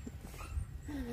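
A Korean dog whimpers softly in a high, drawn-out whine near the end, over a low background rumble.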